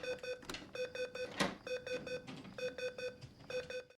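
Alarm system keypad on a TV show beeping in quick runs of bright electronic tones, several short bursts in steady rhythm, with a brief noisy rustle between them and no talking.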